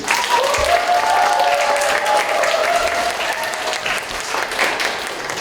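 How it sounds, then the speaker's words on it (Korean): An audience at a Yonsei arts academy event applauds as an actor is welcomed on stage, steady loud clapping from many hands with a faint cheering voice rising briefly above it. "자, 박수 보시죠"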